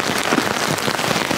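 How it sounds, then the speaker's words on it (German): Steady, dense rain pattering on a tarp over a camp in the woods during a heavy storm, loud and close, with no voices. "Dieser ganze Regen hier vorne, der kommt hierher und macht mich hier die ganze Zeit nass."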